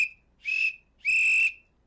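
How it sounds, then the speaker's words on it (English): A coach blows a whistle twice, a short shrill blast followed by a longer, louder one, clear and close with no talk. "I'm going to blow the whistle"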